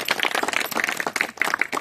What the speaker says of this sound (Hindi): तो उसके लिए जोरदार तालियां।